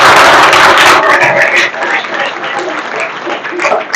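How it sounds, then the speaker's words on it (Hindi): An audience at a youth group event bursts into loud, close applause for Virat Kohli, a dense roar of clapping that peaks at the start and then settles into a steadier, slightly softer patter. "एक बार विराट के लिए जोरदार तालियां"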